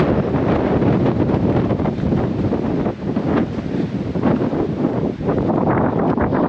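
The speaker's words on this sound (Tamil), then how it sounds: "பயங்கரமாக காற்றடிக்குது." Strong wind on Parvathamalai hill in Tamil Nadu buffets the microphone in a continuous, heavy roar with gusty surges and brief lulls, close and loud, with no voices.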